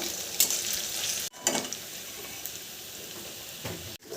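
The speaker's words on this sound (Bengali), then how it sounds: "পেঁয়াজটাকে একটু লালচে করে ভেজে নেব" Onions frying in a pan for a Bengali lamb curry, a steady bright sizzle with a couple of stirring scrapes and short clatters, close and loud with no voices.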